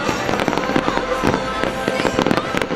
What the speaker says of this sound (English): The evening culminated in a spectacular fireworks display, lighting up the skies above Phoenix Lane